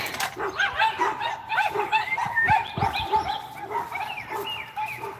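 Several dogs without bark collars bark, yip and whimper repeatedly outdoors near a garden gate, a busy overlapping chorus at close range.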